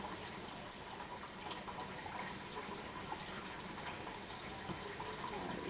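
Sodium hydroxide being poured into distilled water for soapmaking, giving a steady, soft, continuous pouring and fizzing wash of liquid noise throughout, with no voices.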